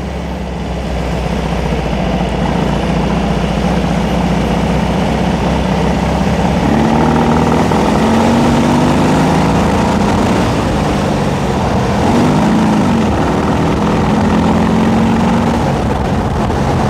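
A Rewaco HS4 Chopper trike engine idles unevenly close by, with an idle fault, a continuous rumbling drone with a wavering pitch that rises and dips.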